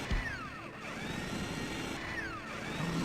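A drill weapon in the arcade zombie shooter Zombie Revenge whirs and grinds with a steady mechanical drone, and sweeping metallic squeals recur twice over the game's background noise.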